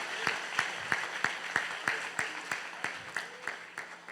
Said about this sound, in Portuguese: Palmas para Deus, porque toda honra e toda glória é para Ele.